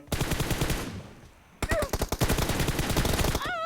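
Rapid bursts of automatic gunfire in a mobile shooting video game, loud and dense with a brief lull before a second volley of sharp, evenly spaced shots, with no talk over it.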